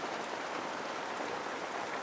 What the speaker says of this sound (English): it started raining, unfortunately